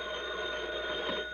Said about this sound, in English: 3 long rings. That's the fire alarm.